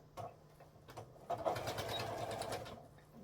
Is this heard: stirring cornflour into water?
no